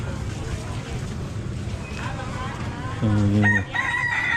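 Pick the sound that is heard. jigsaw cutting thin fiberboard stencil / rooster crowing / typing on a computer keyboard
rooster crowing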